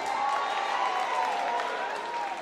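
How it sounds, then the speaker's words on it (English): A comedy show audience breaks into applause and cheering, a dense continuous wash of clapping with scattered whoops and voices from the crowd, sustained throughout. "Give yourself a round of applause."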